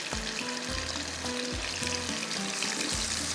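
Pieces of fish frying in butter in a pan give a steady, fairly loud sizzle throughout, with occasional low thumps and faint clinks from cookware, and no voices.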